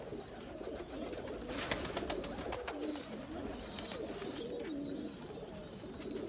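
Teddy and Sialkoti pigeons in a Faisalabad loft coo in repeated soft, throaty rolls, several birds overlapping at close range with faint background noise and no talk.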